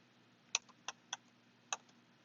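A few sparse key clicks from a computer keyboard being typed into a search box, four distinct taps spaced irregularly, quiet and close with a faint background hum.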